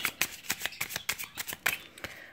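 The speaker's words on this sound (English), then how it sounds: "I'll do one more shuffle" Tarot cards being shuffled by hand, a rapid series of crisp riffling flicks, about a dozen close, evenly spaced bursts with no talk.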